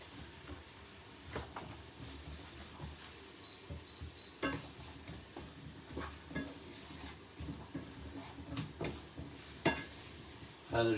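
Carrots and other vegetables cook in a pan with a faint, quiet sizzle. Scattered clinks and scrapes of stirring come at irregular intervals through the low background.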